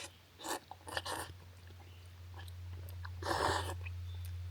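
Close, quiet chewing of picante chicken ramen on a backcountry backpacking trip, with a few soft bursts of mastication over a low steady hum, with no talk.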